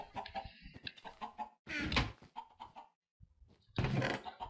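Chicken in Minecraft clucks in a run of short, choppy bursts separated by brief silences, fairly close and clear, with no talking over it.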